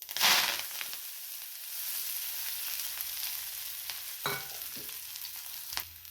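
Vegetables hit hot oil with cumin seeds, giving a loud burst of sizzling that settles into steady frying, with scraping stirs and a couple of sharp clanks near the end; no talking.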